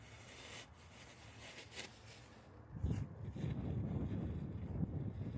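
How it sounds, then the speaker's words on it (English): Faint wind hiss at first, then gusts strengthen into a louder rumbling buffeting of the microphone that keeps building toward the end. "The wind is starting to pick up, unfortunately."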